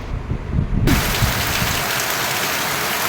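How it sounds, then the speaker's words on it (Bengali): Evening rain falling steadily, heard from beside a window among trees, a broad continuous hiss that settles into an even, close wash after a brief rougher moment at the start. "দেখো তোমার বৃষ্টি পড়ছে, ঠিক সন্ধ্যে এখন 6:30 বাজে, আর এখন কীভাবে বৃষ্টি পড়ছে।"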